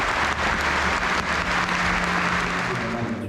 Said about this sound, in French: Applaudissez-vous, s'il vous plaît.